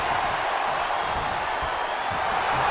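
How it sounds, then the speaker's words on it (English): A crowd at a wrestling match roars in a steady, loud wash of cheering that fills the whole stretch without a break. "The sound of this crowd is deafening, and he's asking for more."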